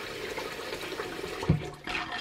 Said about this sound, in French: Je vais ajouter de l'eau.